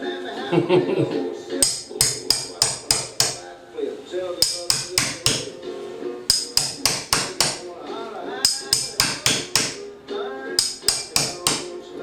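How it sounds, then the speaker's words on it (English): A hammer pounds bacon in quick bursts of about five sharp blows each, repeated rhythmically with short pauses between, loud and close. "Got a hammer."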